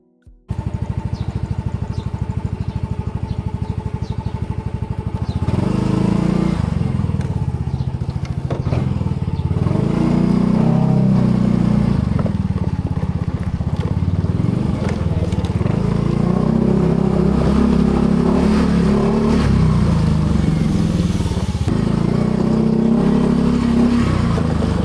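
A motorcycle engine runs steadily and close by on a ride to buy fuel, with the pitch rising and falling through repeated revving and gear changes, plus wind rush and rattle along the road.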